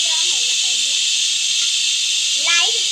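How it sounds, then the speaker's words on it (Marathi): Paneer frying in a pan: a loud, steady broadband sizzle fills the whole stretch, with a voice talking faintly underneath. "आता मी माझे सगळे पनीर फ्राय करून घेते"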